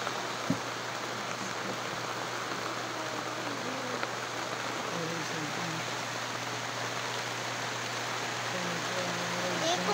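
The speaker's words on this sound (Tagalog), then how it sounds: "Ulan na guys." Rain falls steadily outdoors as a continuous, fairly faint hiss, with a person speaking briefly above it.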